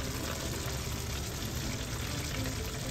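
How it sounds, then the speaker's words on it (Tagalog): A pot of mung beans simmers with a constant, dense bubbling hiss, steady and close. "Ayan, kumukulo na po."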